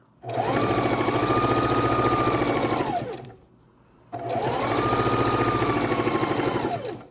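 A sewing machine stitches scrap quilt fabric in two long, steady runs, a brief pause between them, loud and close with no voices.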